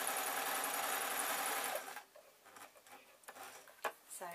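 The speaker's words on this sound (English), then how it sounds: "I'm going to sew round, but I'm going to leave a piece to turn it inside out." A sewing machine stitching fabric for a foot support runs fast and loud in a continuous whir for almost two seconds, then stops, followed by quieter handling clicks and taps.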